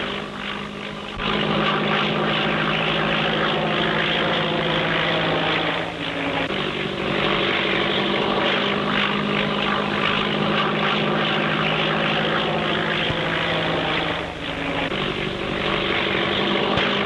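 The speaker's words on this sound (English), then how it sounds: "Hey, where's this plane coming from?" A 1930s propeller airplane drones loud and steady overhead, its engine roar filling the whole stretch with slight surges in pitch, alone with no voices.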